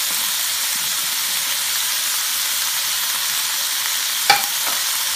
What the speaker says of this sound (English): we're going to go ahead and add our meat in there